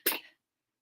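A single short sneeze, a sharp, close burst lasting a fraction of a second and then silence.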